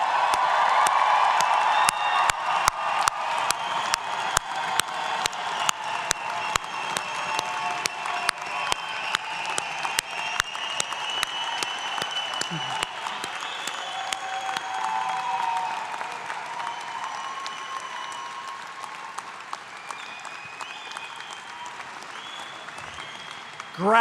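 A graduation convocation crowd applauds and cheers at length, dense clapping filling a large hall with occasional whoops, gradually thinning toward the end.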